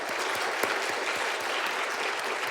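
A church congregation applauds its choir and orchestra with steady, dense clapping that fills the room evenly for a couple of seconds.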